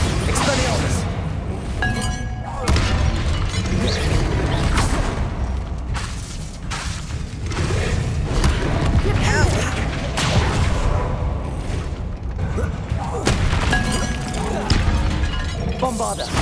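Spell explosions from Bombarda and Confringo in the Hogwarts Legacy video game: repeated booming blasts and shattering crashes that keep going without pause, with a voice talking over them.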